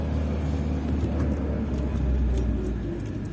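Steady road traffic rumbles near the bus station hub in Konya, a continuous low drone of car and bus engines passing close by with no voices.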